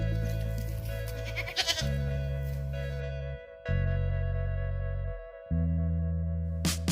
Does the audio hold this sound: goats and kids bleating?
yes